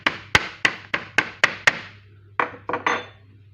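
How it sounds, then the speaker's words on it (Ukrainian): A small hammer pounds the tough ends of cabbage leaves in a kitchen, giving about ten sharp, close knocks, a quick even run and then a looser cluster, with no talking. "Ось ці кінчики капусти, ось ці я відбиваю молоточком."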